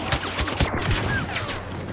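Blaster fire in Star Wars Battlefront, a rapid string of sharp shots in quick succession, moderately loud, with game action noise underneath.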